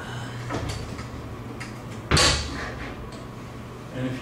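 A classroom door or window is pulled open in one loud, sharp burst midway, with a steady low hum and faint shuffling around it.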